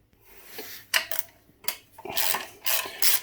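A mudguard comes off a Honda CB750 K2 with short bursts of rubbing and scraping, interspersed with small mechanical clicks and brief quiet gaps, close up and moderately loud.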